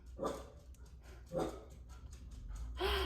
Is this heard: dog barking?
yes